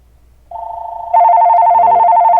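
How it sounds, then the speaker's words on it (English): An incoming call sets a telephone ringing: a steady electronic tone starts, then a louder, buzzier warbling ring takes over and continues unbroken, close and clear with no talking. "we got a phone call coming right when the first winner's going"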